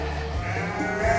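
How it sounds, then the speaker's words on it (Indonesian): Bleating from a Jawa Randu goat, a tall and large breeding buck, at a goat farm. The call is a single drawn-out, wavering bleat about a second long, loud and close, with nothing else heard. "Ini kambing Jawa Randu ya."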